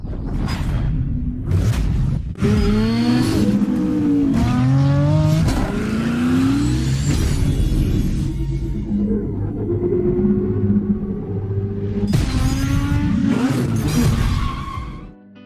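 A '66 Ford Mustang with a 302 V8 revs hard and pulls down the road, loud and close, the engine note climbing and falling through repeated surges with a brief lift near the end.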